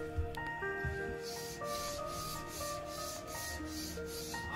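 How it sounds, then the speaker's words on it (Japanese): Sandpaper is worked back and forth over a wooden counter tabletop in a DIY build, producing soft, repeated rasping strokes at a steady rhythm, close and fairly quiet, with no voices. "いきなりですが、天板の方をヤスリ掛けをしております。"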